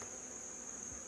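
Honeybees buzz around an open hive during a pre-treatment varroa check, a steady, dense hum that fills the moment with no talking.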